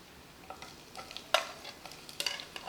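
Stirring shredded onions and curry leaves in a pan with spices like mace, cardamom, star anise and garlic: faint scattered scrapes and light sizzling taps, a few sharper clacks of the spoon against the pan.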